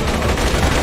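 Rapid continuous gunfire from a weapon in the video game Borderlands 2, a loud dense burst of shots packed tightly together with no pause, heard alone without talking.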